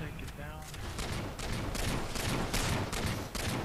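Gunfire in a Halo 4 multiplayer match, with rapid bursts of shots crackling almost nonstop and a loud, dense layer throughout, while players talk over it.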